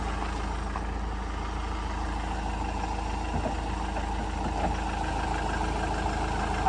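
A Mazda BT-50 turbo diesel engine with a faulty turbo idles steadily up close, a constant low rumble with a faint mechanical clatter and no talking.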